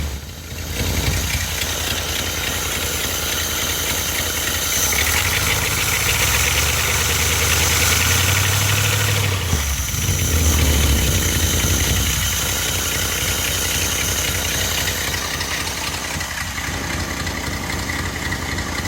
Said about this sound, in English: She starts really well and runs really well, this engine.